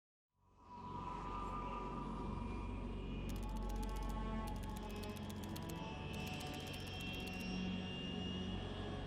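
A plane cruising at altitude over the Arctic Ocean in Metal Gear Solid 3 fades in to a steady, droning engine roar that holds level throughout, with bursts of faint electronic crackle laid over it.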